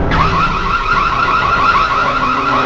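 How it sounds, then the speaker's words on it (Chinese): A personal panic alarm triggered in a horror film scene blares as a loud, continuous, piercing electronic wail that starts abruptly and holds steady throughout, with no speech. "并且手里还攥着报警器，她毫不犹豫地按了下去"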